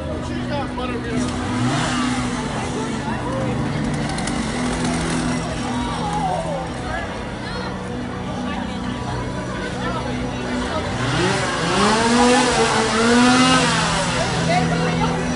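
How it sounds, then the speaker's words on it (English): Chainsaw engines rev and idle at a Halloween Horror Nights haunted attraction, pitch rising and falling in repeated bursts, with voices murmuring in the background. "And more chainsaws."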